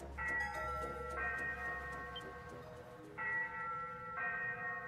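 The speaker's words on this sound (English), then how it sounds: "The ship's bell?" A ship's bell rings in Ys VIII: Lacrimosa of DANA, a steady series of clear metallic strikes with lingering resonant tones, sounding in a few separated clusters with no voices.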